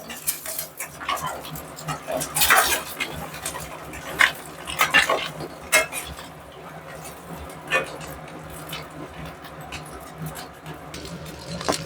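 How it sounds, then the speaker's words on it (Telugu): Browned boiled eggs and salt are stirred in a pan, with clattering spatula scrapes and metallic knocks over a low frying hiss. Bursts come irregularly and close, and some voice-like sounds appear. "ఇలా కొంచెం బ్రౌన్ అవ్వగానే మనం సాల్ట్ యాడ్ చేసుకోవాలి ఫ్రెండ్స్ కొంచెం కలుపుకోవాలి"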